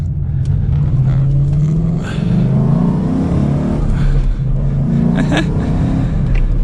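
A Ford Mustang GT with a manual gearbox pulls hard through its gears, the engine note loud and close, climbing in pitch and dropping briefly at each shift before rising again.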